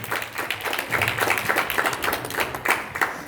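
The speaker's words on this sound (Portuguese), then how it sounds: "E aplauda Jesus de Nazaré." A church congregation applauds during a Portuguese-language evangelical service, producing a dense, continuous patter of many hands clapping at moderate volume throughout.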